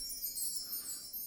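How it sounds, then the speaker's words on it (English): A faint, airy shimmer of high metallic chimes sparkles briefly, thin and bright with little low end. "it's just some of them like metal chimes"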